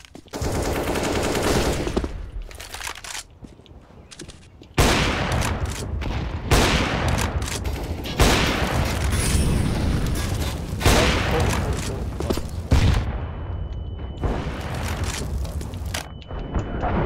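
Counter-Strike: Global Offensive firefight with sustained loud automatic gunfire in bursts and heavy booming blasts from a thrown grenade, close and dense throughout, with brief quieter gaps between volleys.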